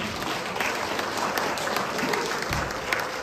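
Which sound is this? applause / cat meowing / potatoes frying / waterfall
applause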